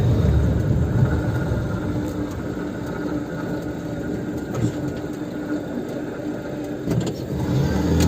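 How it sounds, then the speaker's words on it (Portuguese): A car engine runs under light throttle at 80 to 100 km/h during a test for connecting rod bearing knock, a steady close rumble of engine and road noise with a few faint sharp ticks. "vou fazer o teste com o pé no acelerador ali, o pé mais leve"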